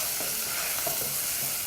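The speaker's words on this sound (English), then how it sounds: "Mix your matoke really quickly." Matoke is stirred briskly in an oiled pan, giving a continuous crackling sizzle with faint scraping strokes from the quick mixing, close and without any voices.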